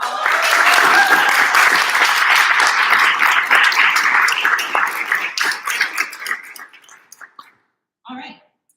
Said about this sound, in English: Let's have one last round of applause for all of us.